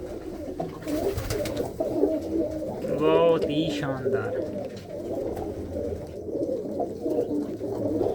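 Pigeons at a pigeon loft in Mansa, Punjab, coo in low, murmuring tones against a noisy outdoor background, while someone speaks briefly over them.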